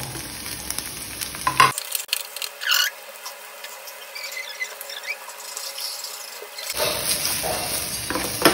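Capsicum pieces fry lightly in olive oil in a pan for a tawa pizza, giving a steady, soft sizzling hiss with occasional stirring clinks and scrapes and no talking.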